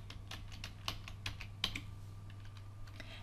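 A computer keyboard clicks at a quick, uneven pace as a web link is edited, the keystrokes close and moderately loud, with one sharper tap midway and no talking.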